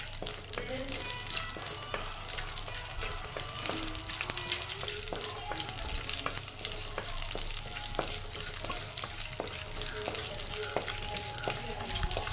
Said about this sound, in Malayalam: കടുകിട്ടു കടുക് വറുക്കുകയാണ്